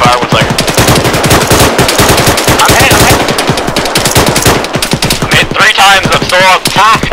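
Loud, close machine gun fire in a multiplayer shooter video game, a rapid unbroken stream of automatic shots with a few short gaps, while a voice talks underneath.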